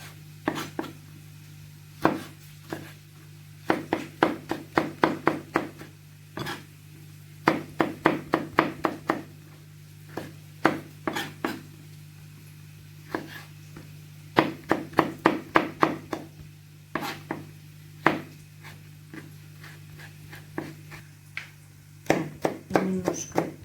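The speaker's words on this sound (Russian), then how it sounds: "Так, нарежем помидорчики" A knife chops tomatoes on a cutting board in quick rhythmic bursts of sharp taps, pausing between runs, over a steady low hum in a home kitchen while onions fry.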